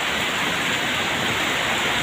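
Steady, dense rain falling, a constant hiss with no pauses, close and fairly loud.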